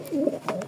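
Racing pigeons, a club-ringed breeding pair, give a few soft, low cooing calls close by, rising and falling with brief pauses between them.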